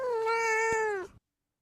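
A single close, clear cat meow, drawn out and falling slightly in pitch before cutting off into silence.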